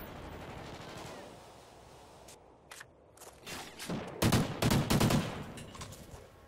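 Gunfire from a Call of Duty: Ghosts match, a few sharp shots at first and then a louder cluster of bursts near the end, with low background game noise throughout.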